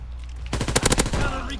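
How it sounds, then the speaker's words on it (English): Rapid bursts of automatic gunfire from a World War II video game erupt after a quiet start, loud and close, a fast run of shots that fades into a lingering tail. "someone's shooting over"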